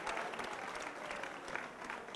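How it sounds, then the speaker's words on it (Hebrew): Guests at a wedding ceremony applauding, a continuous wash of steady clapping from a crowd, moderately loud and even throughout. "כפיים"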